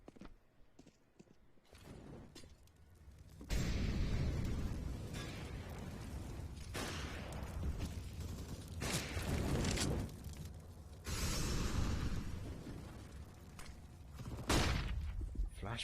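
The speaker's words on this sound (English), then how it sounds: "Flashbang will come out for Nellis." A flashbang grenade and gunfire sound during a tactical shooter match. Loud, dense bursts and blasts run almost continuously, with brief drops in between.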